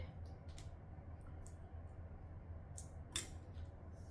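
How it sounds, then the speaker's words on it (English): Sewing scissors trim thread tails on a fabric strap in several crisp, separate snips spread across a quiet room with a low background hum. "we're going to cut away the tails of the thread"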